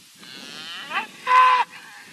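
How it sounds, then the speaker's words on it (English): A Highland bull lows on a farm ranch, a nearby moo that rises into a louder, strained bellow before trailing off, heard alone without talk. "He's our Highland bull."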